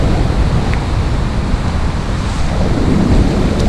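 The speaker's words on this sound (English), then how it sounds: "You think it's far out, but then big waves come straight to you." Ocean surf rolls in at a winter beach at Sandsend on the Yorkshire coast, a loud continuous roar of breaking waves mixed with heavy wind buffeting the microphone and no voices.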